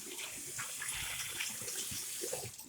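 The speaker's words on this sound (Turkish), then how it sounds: "Evet şimdi birazcık suyun altında tutuyoruz. Bu şekilde oğuştura oğuştura yıkayacağız." Tap water runs steadily over aquarium items held and rubbed clean under the stream, a close continuous splashing gush with small shifts as the items are turned.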